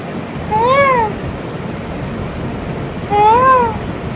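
A cat meows twice, close and loud, with a long pause between the two calls and a quiet background.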